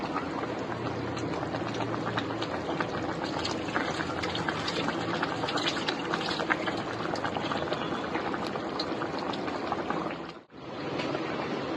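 Hilsa fish and eggplant curry (ilish macher jhol) simmers at a boil in a pot, giving a close, steady, continuous bubbling and crackling that dips briefly just before the end.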